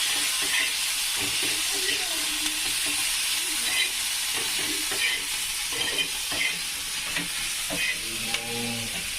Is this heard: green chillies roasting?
yes